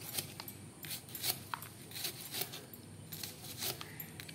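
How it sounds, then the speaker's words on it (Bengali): Bitter gourd sliced into rounds with a knife gives a series of crisp, faint cutting clicks, spaced irregularly across a few seconds at close range. "এইভাবে সব উচ্ছেগুলোই আমি এরকম করে চাকা চাকা করে এইভাবে আমি কেটে নিচ্ছি।"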